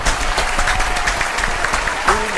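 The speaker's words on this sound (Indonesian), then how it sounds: "Beri tepuk tangan untuk Umar." A crowd's applause for Umar at a motivational talk keeps up as a thick, steady patter of many hands throughout, close and fairly loud.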